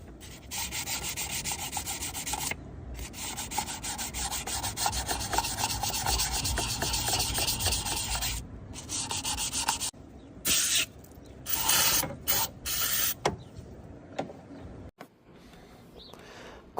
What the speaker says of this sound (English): we took some 800 grit to clean this up